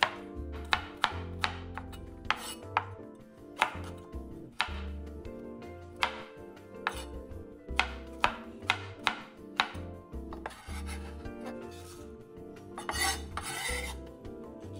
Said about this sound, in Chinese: 切成小颗粒状。